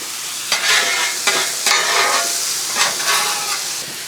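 Pork fried rice sizzling in butter on a Blackstone flat-top griddle, a loud steady frying hiss broken by several scraping stirs of a spatula as the rice is pushed across the hot metal, with no talk.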